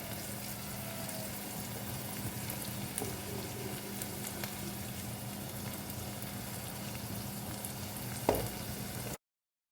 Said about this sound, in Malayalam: ഇനി ഇത് എണ്ണയിൽ നന്നായിട്ടൊന്ന് വഴന്നു വരണം